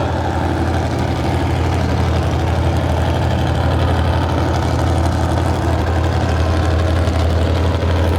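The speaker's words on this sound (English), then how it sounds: "I hear the next truck coming up" Loud, steady low rumble of a tractor pull truck engine idling at the start line at the Hardin County Fair, a continuous throbbing drone with no speech over it.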